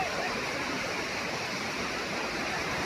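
The Savatkada waterfall in Rajapur, in the Konkan, roars as a steady broadband rush of falling water, loud, close and unbroken, with no voices.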